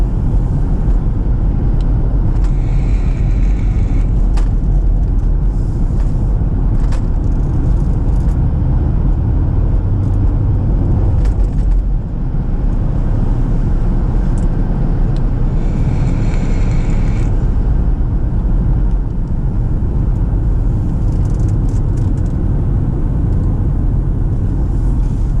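A car cruises down a road with a constant loud rumble of engine and tyres, a brief dip midway, and no voices over the steady drive.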